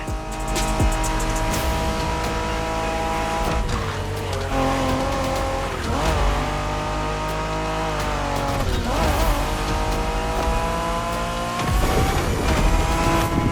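Street-racing cars in The Crew Motorfest, a Japanese-themed race: loud, continuous engine drone with shifting revs and gear changes, squealing tires and skids throughout, with no talking.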